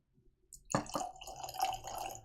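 Bruichladdich Laddie 22 year single malt whisky is poured into a glass. A sharp clink opens a close, steady liquid trickle that runs for under two seconds.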